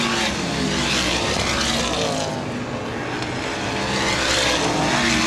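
Sprint cars in an outlaw sprint series race at Baer Field Speedway, their engines roaring loud and continuous with a rising and falling drone as the field circulates the track, with no talk over it.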